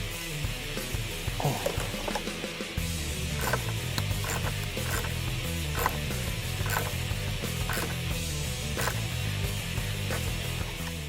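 Hand ratchet tightening a bolt through the core support on a 2013-2018 Focus ST Steeda ram air intake scoop: rapid, close clicking of the pawl in repeated bursts, loud and steady without talk.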